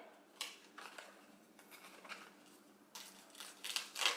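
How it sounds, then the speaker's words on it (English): Quilt-piecing paper tears along sewing-machine stitch perforations in a few soft, short ripping bursts, faint and close, ending with a quicker run of tears. "you wanted to make it to where it made little perforations, and that's so when you tear it,"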